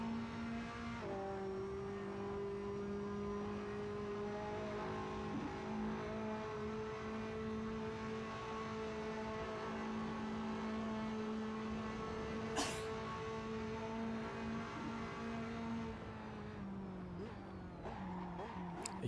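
GT2 race cars at Spa in the video game Assetto Corsa, a steady droning engine note held at high revs with engines nearby, a brief sharp click midway and the pitch dropping near the end.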